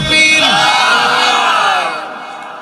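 A crowd at a Bengali Islamic sermon gathering, led by grey-haired, grey-bearded older men, shouts Allahu Akbar in unison in reply to a takbir call. The loud, sustained collective shout rises at once and fades away over about two seconds.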